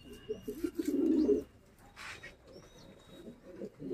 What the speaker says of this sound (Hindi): देखिए हम लोग एक ये कबूतर है